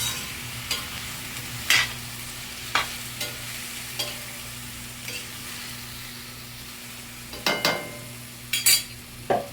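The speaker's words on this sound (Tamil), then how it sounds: "தேவையான அளவு உப்பு லைட்டாக அந்த எண்ணெயிலே கோவக்காவை நல்லா வேக வச்சிடலாம்" Ivy gourd (kovakkai) fries in oil with a little salt, making a low steady sizzle while a spoon stirs it, with intermittent clinks and scrapes that grow busier toward the end.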